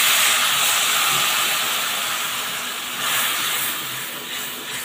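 Water poured into hot oil spiced with turmeric, salt and chili powder for a begun ilish curry of eggplant and hilsa fish, giving a loud, steady close hiss of sizzling steam that eases off slightly toward the end.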